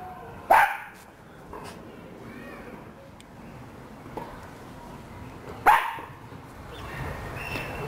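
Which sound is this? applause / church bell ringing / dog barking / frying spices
dog barking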